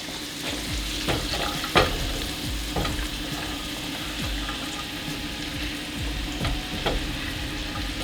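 Chopped onion frying in oil in a pan, with a steady sizzle and spoon stirs and scrapes breaking through the hiss at intervals, heard up close with no talking.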